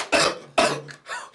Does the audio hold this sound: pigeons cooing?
no